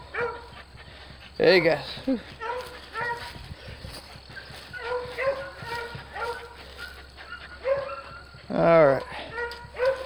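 Dogs let out several loud barks and yips, with whimpering and whining between them, while a person talks over them nearby.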